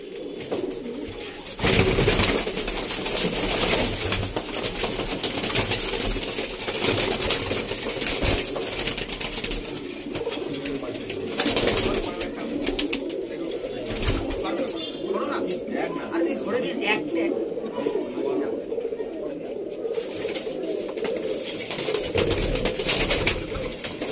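Pigeons coo repeatedly inside a loft, soft throaty calls running throughout, with someone talking over them and occasional sharp clicks and rustles.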